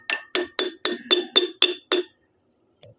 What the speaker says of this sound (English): tap it with a real hammer